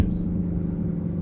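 A 2020+ Ford Mustang Shelby GT500 fitted with an MBRP X-pipe and resonator delete gives a loud, steady, deep exhaust rumble that holds an even tone throughout, with no sharp revs.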